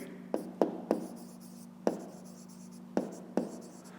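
A pen writes on paper while numbers are worked out for a fifth-grade maths exercise: soft scratching strokes, with six sharp taps and scrapes spread unevenly across the quiet, close to the listener.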